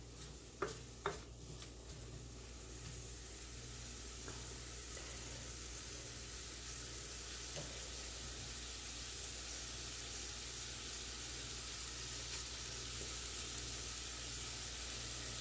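Onions for scalloped potatoes cooking in a pan, a faint steady sizzle running throughout, with a couple of sharp utensil clinks near the start.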